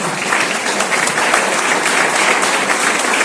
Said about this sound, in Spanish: Amén, den un aplauso.